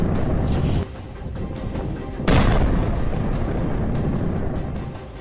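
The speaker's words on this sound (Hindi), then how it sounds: "देखिए कैसे ये तोप गोले बरसा रही है।" Indian Army artillery gun firing shells at the LOC, heavy booming blasts, one around the first second and a louder one near the middle, each followed by a long rumbling decay over constant background noise.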